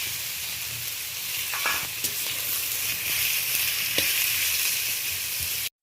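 Onion, tomato, green chilli and garlic paste sizzling in a hot pan, a loud continuous close-up fry with a few sharp spatula clicks and scrapes, no voices, cut off abruptly at the end.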